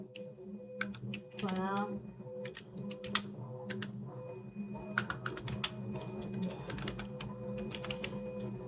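Keys clatter in quick irregular bursts as text is typed on an original Macintosh keyboard running Mac OS 1.0, close and clicky, with someone speaking briefly over a low background hum.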